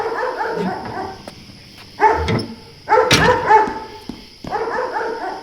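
A dog barks in several short bursts with brief gaps between them, close and fairly loud, with no talking over the barks.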